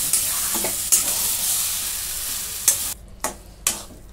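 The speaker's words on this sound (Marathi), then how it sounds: "2 मिनिटांनी असं परतून घेते." Food sizzles steadily in a pan while being sautéed, with a few sharp scrapes and knocks of a spoon stirring it, close and continuous.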